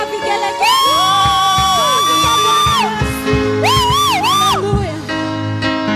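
A church congregation at a Kikuyu service cheers and ululates loudly close by, with high wavering trills rising and falling over crowd noise and shouting.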